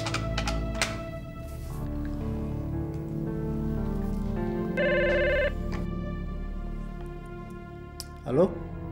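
A telephone rings repeatedly during a call setup in a drama scene, with its steady tones running under background music throughout.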